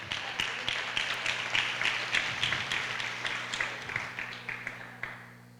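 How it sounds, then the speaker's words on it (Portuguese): Light, thin applause from a church congregation, scattered clapping of modest volume over a low steady hum, carrying on for several seconds before tapering off. "Se esse aplauso fosse na religião, estava legal. Mas para uma revelação de reino foi muito fraco."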